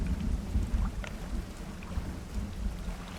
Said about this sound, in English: Just a storm in the distance I can hear.